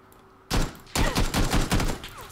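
Gunfire in PUBG Battlegrounds, with a single loud shot followed by a rapid burst of about six close, sharp reports in quick succession, then fading.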